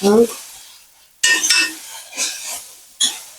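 Onions sautéing in a pan with a little ginger-garlic paste for a Kerala kadalai curry, heard as soft sizzling broken by sharp scrapes and clatters of a spoon stirring against the pan, with a brief voice at the start.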